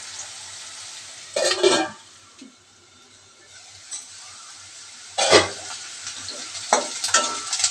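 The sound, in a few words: cinnamon and cloves frying in a pan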